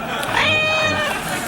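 A cat meows and caterwauls in a drawn-out, rising wail on a late-night television talk show set, loud and close amid studio noise.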